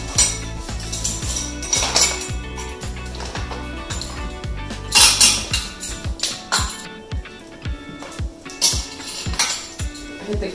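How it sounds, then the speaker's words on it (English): Spoon clinking against a bowl or container while measuring dried yeast for braided milk bread, a steady run of close, light metallic taps with brighter clatter in the middle. "2 teaspoons of dried yeast. So you can take 2 spoons full of that"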